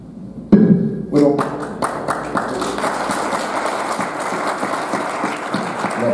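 A conference audience bursts into applause after a speech, starting with a few sharp claps that quickly swell into sustained, full-room clapping with voices underneath.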